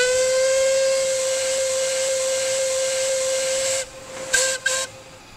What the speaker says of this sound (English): As an example of a locomotive that does have a dynamic-slash-looped whistle